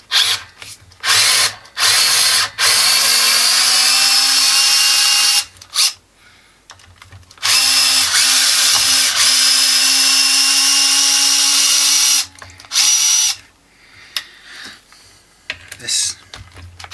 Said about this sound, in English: making sure I get the right or a good fit screwdriver head, because it's too easy to mess up the neck